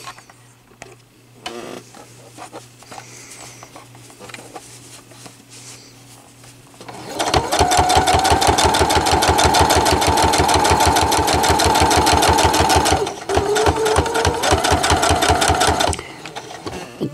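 A sewing machine stitches around a fabric bowl cozy, running in a steady fast whir after a quiet stretch of handling, with one brief pause before it carries on and then stops.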